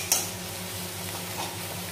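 Spoon stirring coriander powder and Kashmiri red chilli in a pan for a bottle gourd fish curry, a soft steady scraping with a faint sizzle and one brief clink near the start.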